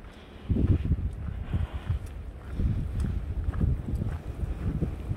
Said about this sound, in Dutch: Kijk maar hoe de wind waait.